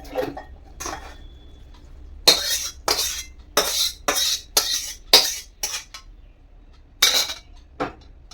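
Spiced Bengali shukto is poured from a metal pot into a bowl, with a close series of about a dozen sharp metallic clinks and scrapes of a utensil against the vessel. Nobody speaks.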